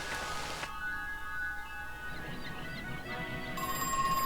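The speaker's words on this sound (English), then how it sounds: "Oh, where's the phone? Oh, there's the phone. It's ringing." Telephone ringing in the horror video game Crow Country, a repeated electronic bell tone over soft, steady rain ambience, moderately quiet, with no talking.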